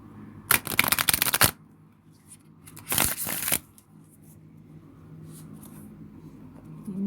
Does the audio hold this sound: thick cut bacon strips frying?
no